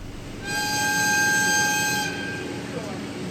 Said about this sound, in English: The Orochi finally departs from Bingo-Ochiai Station, heading for its next stop, Yuki Station.